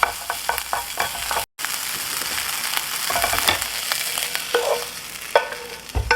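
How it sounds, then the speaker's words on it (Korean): Bacon fries in a pan with a dense, close sizzle and scattered sharp pops and spatters, broken once by a brief moment of silence, and no voices. "베이컨 구워주세요"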